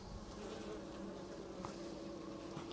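Honeybees in a hive heard from a microphone placed down inside the colony, a dense continuous hum steady throughout with no talk.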